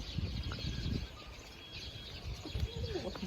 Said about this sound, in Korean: 아니, 무슨 새소리가 이렇게 나?